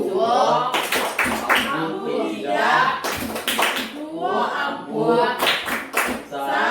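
A group claps out the tepuk santri chant, sharp bursts of hand claps landing in rhythmic clusters between loud chanted voices, with children and adults calling out over the beat.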